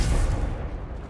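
Confringo explosive spell blast in Hogwarts Legacy, a close, heavy booming burst that rumbles for a moment and quickly decays.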